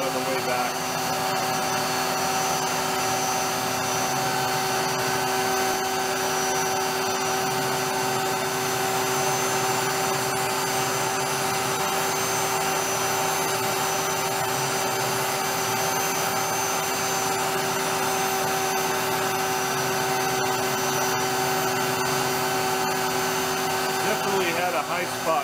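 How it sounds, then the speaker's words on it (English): A tool post grinder with a not very stiff spindle grinds the jaws of a lathe chuck, a steady loud whine with sustained tonal hum running unbroken throughout. "Being that it's not a real stiff spindle on the tool post grinder, I'm getting spark out on the way back."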